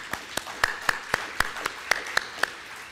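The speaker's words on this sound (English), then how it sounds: "let's give a round of applause to the Hope Foundation" Sparse, evenly spaced claps at a hybrid medical group meeting, about ten distinct hand claps in a slow steady rhythm, fairly faint with no talking.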